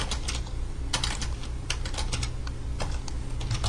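Fast typing on a computer keyboard while entering a message, a dense stream of close, sharp key clicks in quick irregular bursts, alone without talk.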